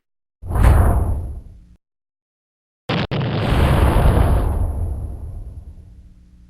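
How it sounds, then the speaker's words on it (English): An animated cartoon explosion bursts out as a short rushing whoosh, a brief gap, a sharp pop, and then a long, loud roaring blast that slowly fades, with no voices. "The blast left me in tatters and unable to fly"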